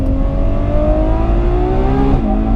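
Ferrari 812 Superfast front-engine V12 revving hard on track, a loud close wail climbing steadily before a sharp gear change drops the pitch near the end.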